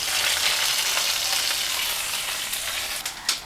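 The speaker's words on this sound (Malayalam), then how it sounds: "രണ്ട് വറ്റൽ മുളക് എല്ലാം കൂടെ മൂപ്പിച്ചിട്ട് നമ്മുടെ കറിയിലേക്ക് ഒഴിച്ചു കൊടുക്കുക" Dried red chillies fried for a tempering and poured into horse gram curry make a loud, steady crackling sizzle that holds throughout, with a couple of sharper hisses near the end and no voices.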